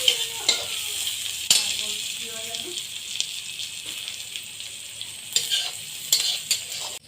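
Onions fry in a pan with cumin powder and turmeric, a soft steady sizzle broken by scraping stirs and spoon clatter close by, while a voice talks faintly over the cooking.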